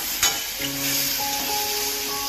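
Vegetables fry in masala in a hot pan, a steady bright sizzle with a brief clatter of stirring near the start and faint tonal hums underneath.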